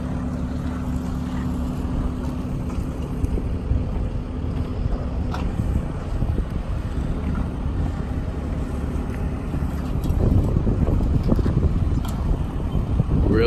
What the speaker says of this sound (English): Real windy day.